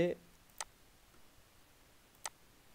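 A computer mouse clicking twice on a desktop, two sharp, close, isolated clicks about a second and a half apart over quiet background, after a brief snippet of voice at the start.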